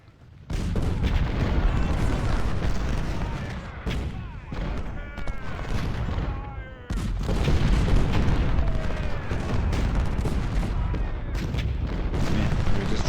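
Artillery cannon fire in a Civil War game at Gettysburg, a continuous loud barrage of booms and crackling gunfire with repeated sharp blasts and a few brief drops in the din.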